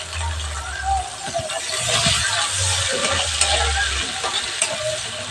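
Chopped onion hits hot mustard oil in a pan for a village-style koi fish curry, giving a steady close sizzle with stirring scrapes, and a voice speaks over it in places.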